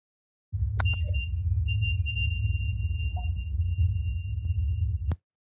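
An REM pod ghost-hunting detector sounds faint, thin electronic tones over a steady low hum, with a brief sharp click near the start and near the end.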